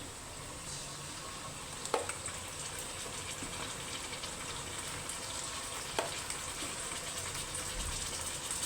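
Marinated chicken fries in a kadai over previously fried onions for a military-style chicken biryani, giving a dense, even sizzle throughout with a couple of faint clicks from stirring.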